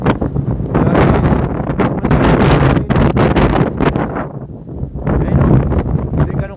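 Strong wind in a zero-visibility snowstorm in Alberta, Canada, roaring and buffeting the microphone in loud, continuous gusts, with a person's voice faintly mixed in.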